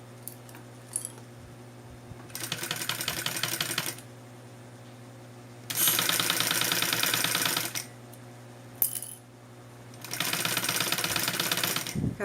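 A domestic sewing machine stitches synthetic bag material in three separate bursts of rapid, buzzing needle clatter, each lasting a few seconds, with quiet pauses and a faint steady hum between runs.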